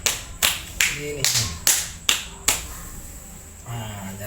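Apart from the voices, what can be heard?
hands patting the body during self-massage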